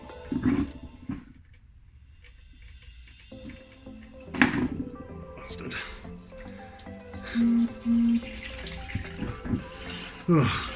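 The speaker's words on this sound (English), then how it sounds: "we're going to take this plug off and then drain the oil out" Engine oil drains from the sump of a Porsche Cayman 987 after the drain plug is removed, a trickling, splashing stream into a pan with occasional clanks and knocks nearby.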